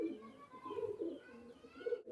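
A KTM bloodline teddy pigeon coos softly nearby, a few repeated throaty low coos in a short rhythmic series, faint and alone.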